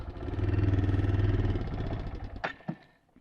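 A Kawasaki Bayou 220 ATV barn find idles with a steady low chugging putter that fades and dies out, followed by a couple of mechanical clicks.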